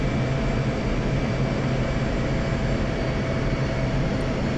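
An F-16C jet in the DCS World flight simulator gives off a steady, loud engine drone with a constant low rumble and faint whine, unbroken throughout.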